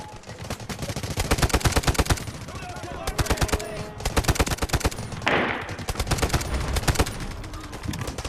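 Game gunfire from the Delta Force shooter rattles in dense automatic bursts, with rapid cracking shots from nearby and distant weapons overlapping almost continuously and brief pauses between volleys.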